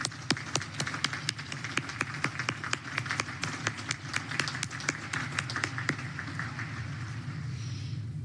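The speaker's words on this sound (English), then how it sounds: "How about one more round of applause for our parents out there?" Sustained applause from a large outdoor crowd honoring parents at a Naval Academy commencement, dense steady clapping with a few sharp individual claps standing out, easing slightly toward the end.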